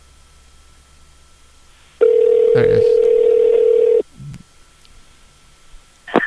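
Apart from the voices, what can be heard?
telephone calling back, ringing tone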